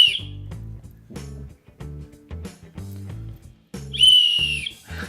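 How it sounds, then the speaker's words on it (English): A small keychain whistle is blown twice, shrill, a short burst at the start and a longer piercing blast near the end, with other sounds in between. "So let's try out this whistle. All right, a little keychain whistle."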